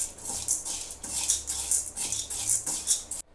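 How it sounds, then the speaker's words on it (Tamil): Whole spices dry-roasting in a pan for homemade kuzhambu masala powder, giving a steady rhythmic scraping and rustling as they are stirred, close and moderately loud, with no talking. "வறுத்துட்டு ஒரு ப்ரௌன் கலரில் வந்ததுக்கப்புறம் நம்ம வெளியே எடுத்துடணும் அது வரைக்கும் நல்லா வறுப்போம்"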